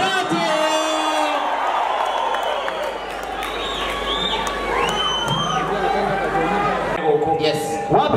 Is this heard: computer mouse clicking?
no